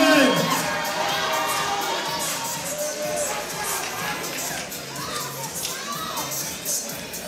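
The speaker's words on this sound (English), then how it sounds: "Who are you cheering for?" A crowd cheers and shouts at a professional kickboxing fight during the final, seventh round, a loud continuous roar of voices with scattered yells swelling and fading throughout.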